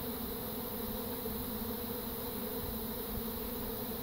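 A dense swarm of honeybees makes a continuous, even buzzing drone close to the listener, steady throughout with no talking.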